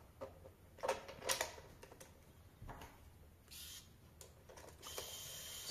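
Magnetic platform being fitted to the front of a Work Sharp Professional Precision Adjust knife sharpener: a few quiet metallic clicks and scrapes, close and sparse, with a soft hiss between.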